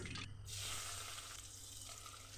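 Small mourola fish frying in hot mustard oil in a wok, a steady close hiss and crackle with a brief scrape early on, no talking.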